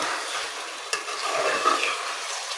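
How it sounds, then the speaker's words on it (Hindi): Chicken frying in a karahi, a dense steady sizzle with a spoon knock or two as it is stirred, close and fairly loud, no voice heard. "अब हम इस चिकन को अच्छी तरह फ्राई कर रहे हैं"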